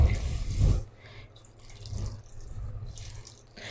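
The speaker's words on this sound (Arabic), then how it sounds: "وهزود شوية مية كده" Water pours into a pot of freekeh with vegetable stock cubes, a short splashy gush at first, then softer trickling and dripping close by.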